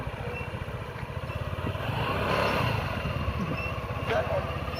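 A motorcycle engine putters with a steady, rapid chugging, swelling slightly in the middle while people talk over it.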